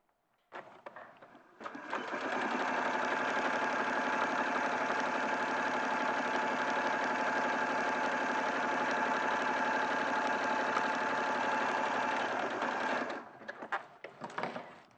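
A sewing machine runs a zigzag stitch through fabric, a steady rapid mechanical whirring chatter that lasts about eleven seconds at moderate volume, framed by brief clicks and handling noises.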